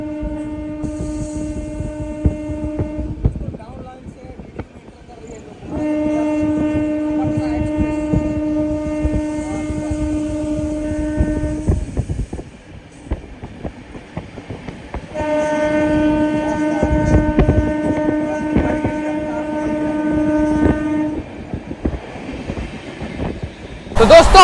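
The Lokmanya Tilak–Patliputra express passes close by, sounding loud repeated horn blasts in three long bursts. Heavy rumble and clickety-clack run underneath throughout.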